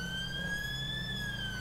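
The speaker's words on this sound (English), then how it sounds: "put your sirens on, they're going to pull over, make sure your sirens are off" Police siren from the game FiveM (GTA V), a steady wailing tone that sweeps slowly up and down and stays loud and continuous throughout over a low engine rumble.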